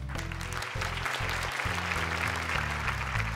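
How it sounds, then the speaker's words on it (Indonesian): Studio audience applauds on an Indonesian Quran-recitation television show, a dense, even clapping wash heard over steady background music. "Tepuk tangan untuk mereka."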